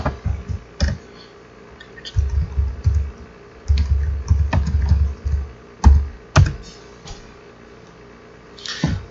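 Bursts of clicky computer keyboard typing come in short clusters separated by pauses, close and crisp, with a few isolated key taps.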